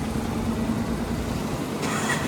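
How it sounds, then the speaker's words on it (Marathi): A car goes by on a coastal road near Alibag, a steady broadband motor-vehicle roar that holds throughout with a brief brighter swell near the end, no voices. "एकच गाडी गेली आता अजूनपर्यंत"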